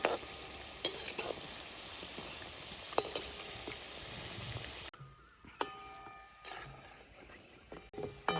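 Cut vegetable pieces, likely brinjal, fry in hot oil with a steady crackling sizzle and occasional sharp pops. The frying sounds close, and no one speaks.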